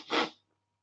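A single short, breathy sneeze bursts out close by, followed by near silence.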